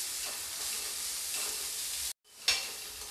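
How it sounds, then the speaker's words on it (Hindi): Mixed vegetables stir-frying on a high flame for street-style veg chow mein, giving a loud continuous sizzle that drops out briefly and then resumes with a sharp burst, no speech. "अब मैं इसे 1 से 2 मिनट तक अच्छी तरीके से फ्राई कर लूँगी।"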